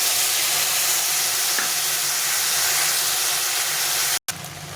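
Masala spice paste fries with tomatoes in a hot pan, a dense, steady sizzle and hiss filling the whole stretch at close range before a brief cutoff near the end, with no talking.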